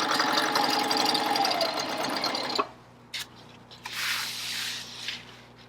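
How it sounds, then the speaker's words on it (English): A coverstitch serger machine sews binding onto fabric with a fast, steady mechanical whir that stops abruptly partway, followed by a few quieter handling sounds. "The machine is feeding that through as my binding is coming through."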